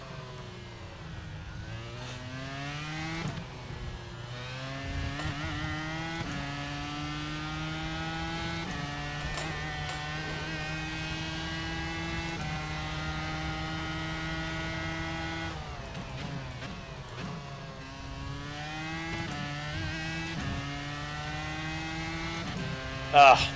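Dallara IR-01 race car in the iRacing sim, its engine droning with rising harmonic pitch, then dropping sharply at gear shifts around 3, 6, 9 and 15 seconds as it climbs toward seventh gear; steady, loud, continuous.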